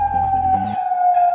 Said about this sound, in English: Sirens blare across the Jordanian capital, warning residents to stay in their home